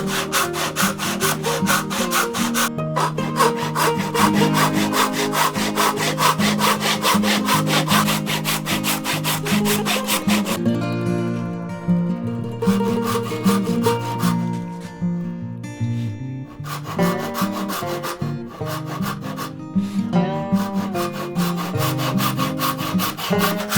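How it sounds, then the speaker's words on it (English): A hand saw cuts tenon cheeks in wood for a cupboard door joint, giving long runs of rapid, rhythmic rasping strokes, loud and close, with a brief break partway through before the steady sawing resumes. "Now that we've got these cheeks sawn off"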